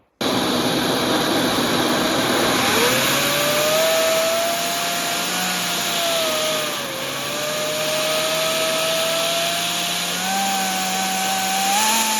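A small LEGO-built vacuum engine spins up to very high speed, a steady loud whine with a rising, wavering tone that holds throughout, no talk.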